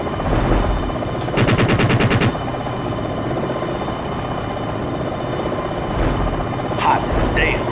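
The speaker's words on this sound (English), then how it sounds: "engaging with cannon." Helicopter cannon fire in the Jane's Longbow Gold flight sim, two rapid bursts of loud rattling gunfire over a constant rotor and engine drone, with brief radio-style voice chatter.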